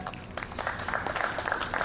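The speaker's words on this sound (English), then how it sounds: "Clap it up" A live summer-series audience claps along at an event, a steady patter of many hands with scattered sharper claps, moderately loud with faint background voices.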